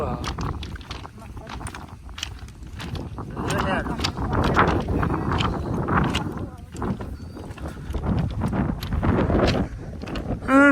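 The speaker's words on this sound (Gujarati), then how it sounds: "પવન છે" Wind buffets the microphone in rough, rumbling gusts, with people talking underneath and scattered knocks and clatter.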